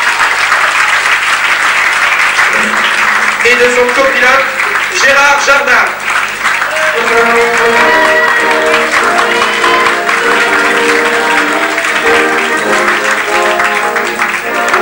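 Audience at a 1984 inter-sports evening at the Tempo-Club in Alençon applauding a rally driver and his co-driver, a sustained loud burst of clapping with someone speaking over it.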